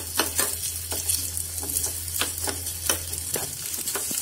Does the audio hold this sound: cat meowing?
no